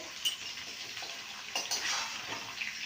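Mango pieces being stirred in a pan while making pickle, with a utensil scraping and clinking against the metal over a soft frying hiss, a few sharper knocks standing out.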